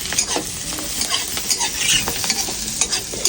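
Spices crackle and sizzle loudly in hot oil as they are tempered for a fish curry with papaya and potatoes, with busy close frying and quick stirring scrapes throughout.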